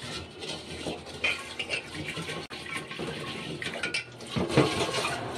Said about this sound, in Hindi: अच्छे से मटके को बाहर से धोएं, हाथ डालकर अंदर से भी धोएं।